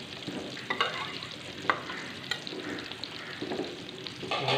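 Cumin, cinnamon pieces and bay leaves fry in ghee with a dense, steady sizzle, broken by a few sharp scraping stirs and light pops, close and fairly quiet.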